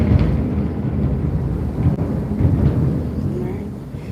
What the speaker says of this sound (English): It's been raining and thundering all day here.